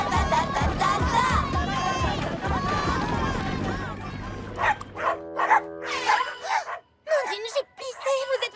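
Overexcited dogs in a Polly Pocket cartoon, barking and yapping among crowd-like shouting and music, then sharper bursts of separate barks interrupted by short pauses, with people speaking French.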